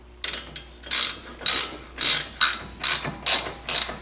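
Ratchet clicking in repeated bursts as an H10 Allen key socket loosens the brake caliper bolts on a 2022 Mercedes GLA 35 AMG front brake, close and crisp with no talk.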